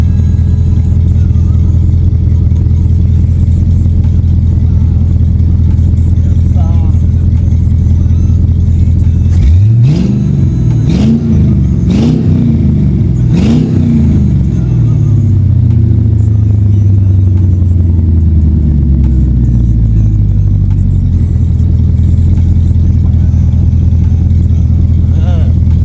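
An LS-swapped G-body Oldsmobile Cutlass, wired with a cheap eBay harness, idles with a steady deep rumble, then revs in three quick sharp blips before settling back to idle. The engine is loud and close, and outdoor background noise runs throughout.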